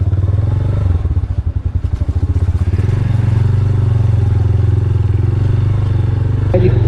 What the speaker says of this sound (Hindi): बाइक हम लोगों ने ले लिया है पार्किंग से।